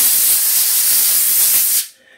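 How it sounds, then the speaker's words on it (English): An olive oil spray can hisses steadily onto a halved spaghetti squash, a close, loud continuous spray for nearly two seconds before cutting off. "olive oil spray"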